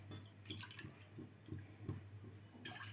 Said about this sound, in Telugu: దానికి 3 గ్లాసులు నీళ్ళు పోసుకోండి